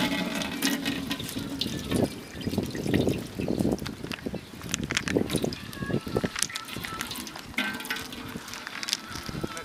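Groundnut oil is poured into a cooking pot for a village-style mushroom biryani cooked outdoors, giving a steady, continuous trickling pour with light crackle throughout.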